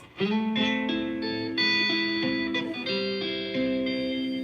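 An electric guitar plays a slow melodic line, each note ringing on with soft delay repeats trailing behind it.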